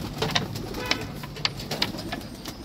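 Pigeons at a pigeon farm coo repeatedly nearby, soft throaty calls overlapping every half second or so over a low murmur of birds, with no talk.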